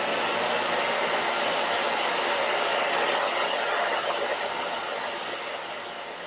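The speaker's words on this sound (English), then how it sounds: "in this case I'm going to use a hairdryer to then go on to the doodling" A hairdryer runs close up, blowing to dry a watercolour painting, giving a steady, loud airy roar that eases off slightly toward the end.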